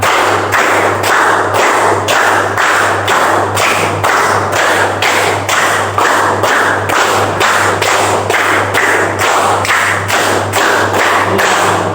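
A school class claps in unison in a rhythm pattern, producing a long, steady series of loud, regularly spaced group claps that continue without a pause and with no talking.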